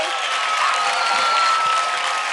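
A television studio audience gives a dense, even burst of applause after a couple's dance performance, the clapping loud and continuous with a faint tone running through it.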